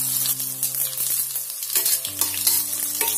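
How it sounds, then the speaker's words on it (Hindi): Mustard seeds, cumin and curry leaves fry in hot oil, giving a loud, steady close sizzle with bright crackling and a spoon stirring in the pan, under tonal background music. "जैसे राई और जीरा अच्छे से फूटता है हम इसमें डालेंगे थोड़े से करी पत्ते"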